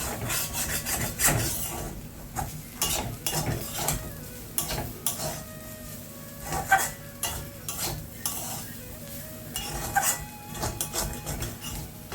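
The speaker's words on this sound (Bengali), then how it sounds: "আর এবার আমি আলুটাকে যে কেটে রেখে দিয়েছি এটাকে এবার আমি ভেজে নেব।" Cut potatoes frying in a pan, salted only, with continuous scraping and rasping strokes of a utensil stirring over a low sizzle, close up and busy for the whole stretch, with no talk.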